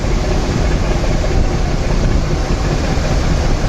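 The engine of the passenger launch MV Doyel Pakhi-8 drones loud and close as it speeds up to overtake, a steady broadband rumble mixed with rushing water and wind and no pauses.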